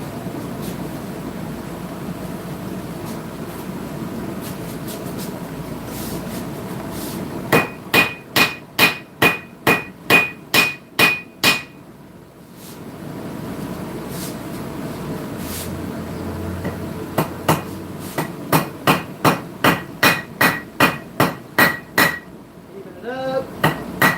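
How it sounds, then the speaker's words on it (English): Hammer forging a blacksmith knife on a Vevor anvil: two bursts of bright, ringing metallic strikes in a fast even rhythm, about ten blows each, separated by a quieter pause, close and loud over low background noise. "Love the old Vevor Anvil"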